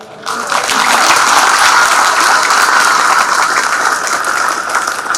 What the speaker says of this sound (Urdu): ہمیں آج تالی بجانے کی ضرورت نہیں ہے